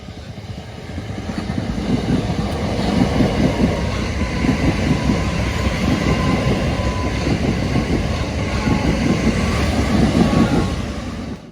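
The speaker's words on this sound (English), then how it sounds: "it's train here heading for Charing Cross" A train bound for Charing Cross passes close by near Staplehurst in Kent, a loud steady rumble of wheels and carriages that swells and holds for several seconds before easing off.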